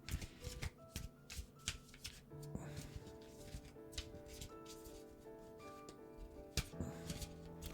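Tarot cards are shuffled by hand close up, a steady run of soft riffling snaps and flicks with irregular rhythm, quiet and alone without talk.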